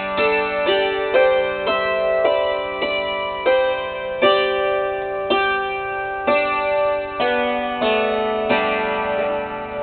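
A dulcimer picks out a song as a steady progression of plucked, ringing notes, each one struck clearly and left to decay. It is close and alone, with no talking.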